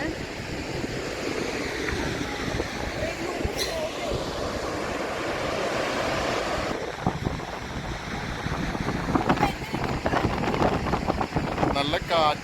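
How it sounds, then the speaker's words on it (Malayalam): Strong wind roars and buffets the microphone at Montmorency Falls in Quebec, a steady loud rush with gusty surges mixed with the distant wash of falling water. Faint voices are heard under it. "നല്ല കാറ്റുണ്ട്."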